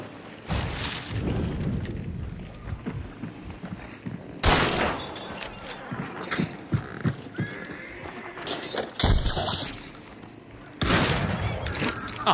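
Loud shooter-game shots and gunfire bursts punctuate a busy scene with horse whinnies and clip-clopping hooves, with several strong blasts spread across the stretch.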